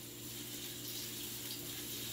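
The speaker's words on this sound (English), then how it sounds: "You want to hear that sizzle when you throw it in." Chopped garlic sizzles in a hot stir-fry pan over medium-high heat while baby bok choy is being cooked, giving a steady, even hiss that fills the whole moment with no talking.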